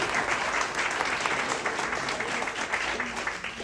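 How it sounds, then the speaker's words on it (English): An audience at a Republican club meeting in Queens Village gives a loud, sustained round of applause, dense clapping from many hands filling the room with a few faint voices underneath. "give your leaders, Joe Concannon and Phil Orenstein, a great round of applause"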